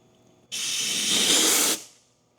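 A fluid line on a Honda S2000 is flushed out in a steady, loud hiss of spraying fluid and air that lasts over a second, then cuts off abruptly.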